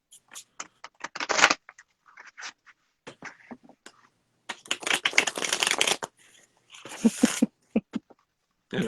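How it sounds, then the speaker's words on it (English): Playing cards shuffled by hand during a live cartomancy reading, several bursts of riffling and fanning with short pauses between them, close and fairly quiet, with no voices. "It's just listening to a shuffle cards."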